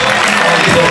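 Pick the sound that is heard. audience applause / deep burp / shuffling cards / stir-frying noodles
audience applause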